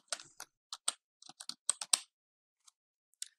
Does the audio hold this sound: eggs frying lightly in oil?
no